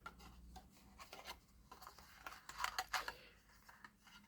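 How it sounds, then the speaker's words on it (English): Thin paper card being mountain folded by hand for a zig zag flap card, giving soft close rubbing and crinkling with a few sharper creasing scrapes near the middle, quiet and without talk. "just going to mountain fold that."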